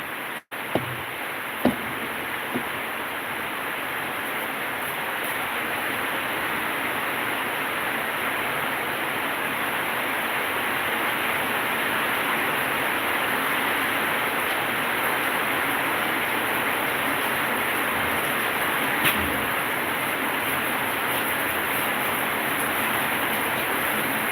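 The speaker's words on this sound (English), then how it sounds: "It's now raining, guys. It's raining." Steady rain hissing down outdoors on a morning, a dense broadband wash that continues evenly throughout with a few faint knocks near the start.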